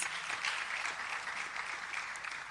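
Audience applause for the Soshanguve campus rector at the unveiling of new studios in Pretoria, a brief even rattle of many hands, moderately distant and alone without speech.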